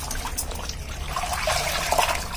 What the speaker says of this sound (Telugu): first blouses దేవేస్తాను